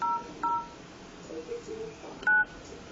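Keypad tones from an Android phone dialer running a custom Sense 6 ROM, three short electronic beeps spaced irregularly and close to the microphone, with faint background hiss between them.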